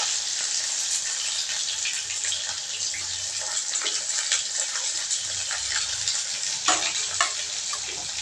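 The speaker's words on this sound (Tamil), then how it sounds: "இந்த சின்ன வெங்காயம் நல்லா வதங்கணும்." Small onions fry in hot oil that already holds popped mustard seeds, giving a steady, dense sizzle close by in the pan, with occasional stirring scrapes and crackles and no talking.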